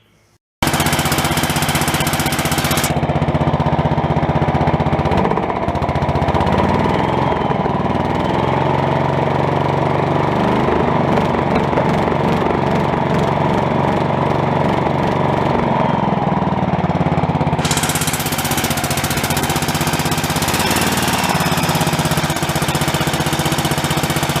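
A small carbureted engine, smoking as it warms up, catches after a brief quiet moment and runs loud and close with a rough, steady chug. Its tone shifts a little as it settles.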